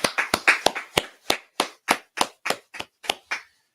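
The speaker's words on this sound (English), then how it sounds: "Let's clap it up." Sharp hand claps land in a close, loud run of about fourteen distinct beats, mostly evenly spaced with a few quicker ones at the start, and no voices between them.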